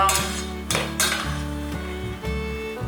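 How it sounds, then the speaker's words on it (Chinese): Cooked organic wild rice is fluffed with a utensil, a few sharp clinks and scrapes against the pot over a steady low hum, close and moderately loud. "有机野米煮好了，把它取出来，先把米饭拌松"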